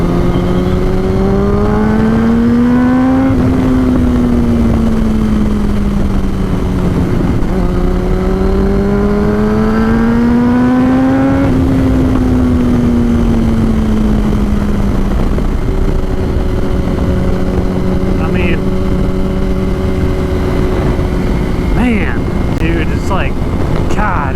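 A 2006 Yamaha R1 sport bike cruises at about 60 mph, its engine a steady high drone that rises and falls gently with small throttle changes, heavily buffeted by wind noise, with a voice speaking briefly near the end.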